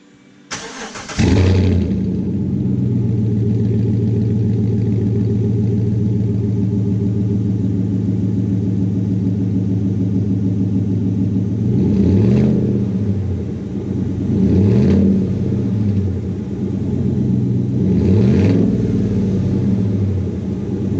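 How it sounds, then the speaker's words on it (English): A 2014 GMC Sierra with a newly installed Corsa Sport exhaust idles with a deep, steady rumble close up, then gives three short revs a few seconds apart, with no talking. "just got this new Corsa Sport exhaust installed on my 2014 Sierra, and I am in love."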